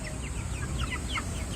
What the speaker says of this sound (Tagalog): Yan ang aking mga manok na alaga, ang babait.